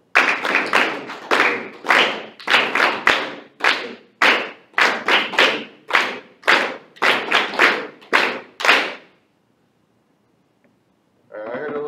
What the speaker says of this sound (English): I heard a little bit of extra clapping there at the beginning